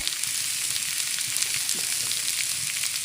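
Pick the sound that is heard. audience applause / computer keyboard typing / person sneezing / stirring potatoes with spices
stirring potatoes with spices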